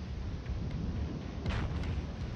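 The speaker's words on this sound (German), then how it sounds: "Ah, es knallt schon herrlich, wenn die feuern." Main guns of the battleship USS South Dakota fire in World of Warships, one deep booming blast in the middle over a low rumbling background.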